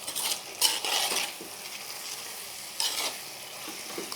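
Pepper chicken cooks with masala in a pan, a soft continuous sizzle broken by bursts of scraping and stirring with a metal utensil against the pan, close and unaccompanied by speech.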